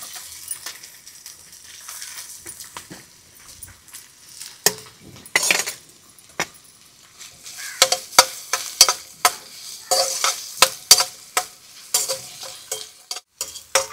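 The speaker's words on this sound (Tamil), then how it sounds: "இப்போ வெங்காயத்தை போட்டுருவோம்." Small shallots frying in a home kitchen pan, a low background sizzle punctuated by sharp clinks and scrapes of a metal spoon against the pan, growing busier and louder toward the end.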